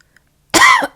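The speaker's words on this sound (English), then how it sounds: "I think I'm coughing because of the smoke." A single short, harsh cough bursts out close to the mic after near silence, followed by a brief second catch of breath.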